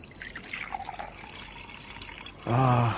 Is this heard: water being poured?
yes